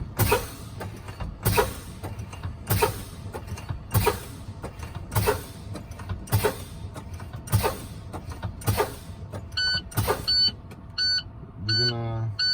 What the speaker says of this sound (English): Now I'm gonna show you my low air alarm test, or low air alarm buzzer test.